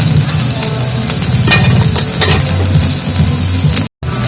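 Telakucha fruit sizzles as it fries in a pan with cumin powder, a steady, close crackle with stirring scrapes throughout and a brief cut near the end.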